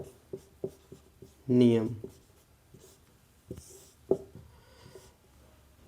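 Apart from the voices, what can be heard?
pen writing on paper or board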